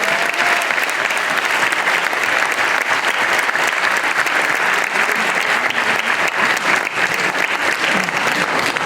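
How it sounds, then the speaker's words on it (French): Steady, dense applause from a conference audience, loud and continuous for several seconds with no pause. "On peut les applaudir."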